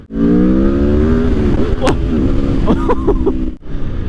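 Aprilia Tuono V4 Factory motorcycle riding by, its V4 engine a loud steady drone with rising harmonic pitch, then a few quick rev blips and gear-change stutters before a brief drop near the end.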